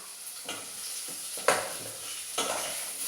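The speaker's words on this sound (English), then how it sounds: "that's getting nice and fried in there" Food fries in a pan at the start of a celery soup, a soft steady sizzle broken by a few stirring scrapes and light utensil knocks, quiet and close with no talk.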